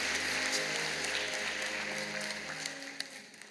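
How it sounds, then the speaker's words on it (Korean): A church congregation at a Sunday worship service gives steady, soft applause to welcome new members, a dense even patter that tapers slightly toward the end. "여러분께 박수로 환영하시지요"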